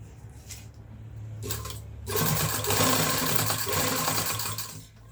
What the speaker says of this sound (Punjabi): ਪੂਰੇ ਧਿਆਨ ਨਾਲ ਜੇ ਸਲਾਈ ਲਗਾਉਣੀ ਹੈ ਜੈਪ ਦੀ ਜੜ ਦੇ ਵਿੱਚ